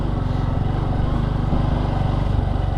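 A Bajaj Boxer BM150 motorcycle engine runs at a steady pulsing idle-to-cruise pitch on a forest trail, loud and close, its single-cylinder thumps evenly spaced throughout.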